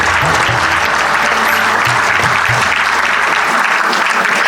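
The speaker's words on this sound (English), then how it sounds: "Please give them a big round of applause, my dear parents, as well as students, those who are present today." Audience applause for students at a school annual day prize distribution, a steady dense wash of clapping that fills the whole stretch at a loud, even level.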